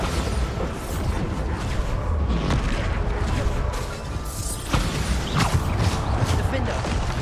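Bombarda spell blasts in the Hogwarts Legacy video game, a dense run of booming explosions and crackling impacts layered over game music and effects, loud and continuous throughout.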